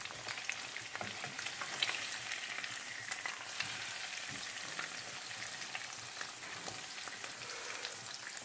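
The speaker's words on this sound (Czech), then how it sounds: "a musíme smažit tak pomalej, že se ten sýr nezačne téct." Breaded cheese fries slowly in a pan with a continuous soft sizzle and fine crackling, steady and close, with no voices.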